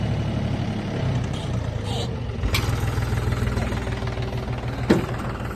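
A tractor engine runs steadily at close range while its hydraulic lift raises a trolley to dump dung, a low continuous rumble with a brief clank near the end, while a voice talks over it.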